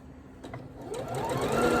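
A sewing machine runs steadily while stitching a quilt, its motor hum rising in pitch and building as the stitching speeds up, close and continuous with no talk.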